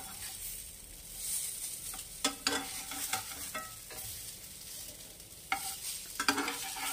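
Oil-free Bengali-style snack being flipped and dry-roasted in a pan over a low flame, with soft scraping and light stirring knocks at irregular intervals over a faint steady sizzle.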